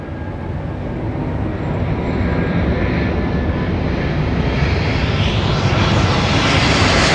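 A jetliner at London Heathrow Airport sends out a broad engine roar that swells gradually louder and rougher over several seconds, heard alone without speech.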